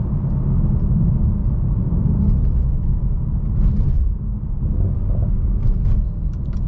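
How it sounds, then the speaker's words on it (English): A 2018 Mercedes-AMG E63S in Sport Plus mode shifts up on its own from inside the cabin. A loud, steady engine rumble carries faint crackles and brief pops at the shifts. "Upshifts are awesome in Sport Plus mode."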